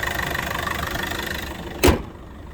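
A 2007 Citroen C8 engine idles with an even, low rumble for a couple of seconds, then a brief soft thump before the hum continues quietly.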